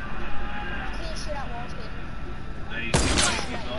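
Gunfire in a video game aimed at breakable walls, a sudden loud burst near the end after a stretch of busy game noise, with players talking over it.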